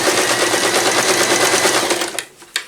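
Sewing machine stitching cotton and PUL fabric for a bowl cover, running at steady speed in a loud continuous buzz, then stopping near the end with a couple of brief clicks.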